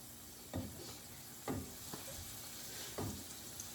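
Cinnamon strudel filling sizzles in a pan, a soft steady fry broken by three stirring scrapes at about even intervals, heard close with no talk.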